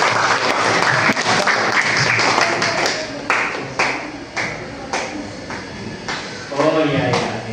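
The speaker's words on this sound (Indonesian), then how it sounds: "tepuk tangan untuk Dana" Applause breaks out for a student group at a teacher-training performance test, loud and dense clapping from a nearby room that thins toward the end with a few scattered claps and voices mixed in.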